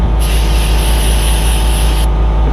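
A loud, steady hiss of brake cleaner sprayed onto the front brake rotor of a 2014 Honda Accord, one continuous burst of about two seconds over a low rumble.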